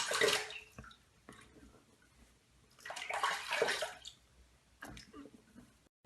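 A face gets a quick rinse under running water after shaving, heard as bursts of splashing and gushing water separated by quieter dripping gaps; no speech is heard.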